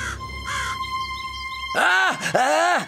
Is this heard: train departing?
no